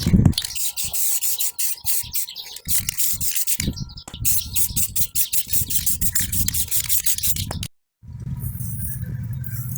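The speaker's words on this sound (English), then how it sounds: "I like to apply this, guys. Some of that Rust-Oleum gloss clear." Rust-Oleum gloss clear coat is sprayed from an aerosol can onto a restored Radio Flyer-style wagon in rapid hissing bursts with brief gaps, ending with a short pause and a low steady rumble.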